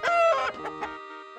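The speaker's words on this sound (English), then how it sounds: "Good morning, Miss Chicken" A chicken clucking in a farming video game: several short, bright clucks in quick succession, close and loud, followed by a lingering tonal background.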